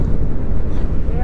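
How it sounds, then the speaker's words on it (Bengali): Loud, continuous low wind rumble batters the microphone aboard a boat on the Payra River at Taltali, a brief, dense roar with no other sound emerging. "বাতাসটা একটু কমছে না"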